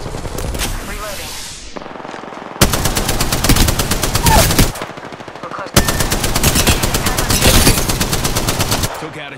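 Rapid bursts of automatic gunfire from an Apex Legends match, loud and close, coming in long sustained volleys separated by short pauses.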